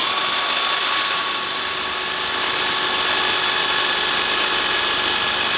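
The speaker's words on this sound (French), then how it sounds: "Et percer après." Power drill boring through a motorcycle mudguard bracket, a loud continuous close whine held steady with no pauses.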